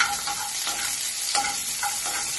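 Onion sautés in a pan with a dense, continuous close sizzle, punctuated by several scraping stirs of a spatula at irregular intervals, with no talking.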